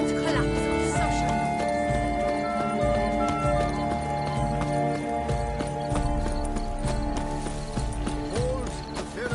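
Horse hooves clip-clopping at a steady rhythmic gallop in The Witcher 3, close and continuous, layered with game music and a voice talking.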